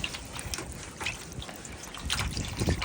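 Leftover water from washing potatoes is poured out at a dacha, a faint, uneven trickle and dribble of liquid splashing onto the ground nearby, with no talking.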